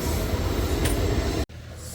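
A train rumbles past close by with loud, steady low roaring and rattling that cuts off abruptly near the end.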